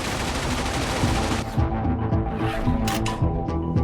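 Wing-mounted machine guns of a P-51D Mustang fire in a dense, loud continuous burst, followed by sharper separate cracks and rattles close by; no voices.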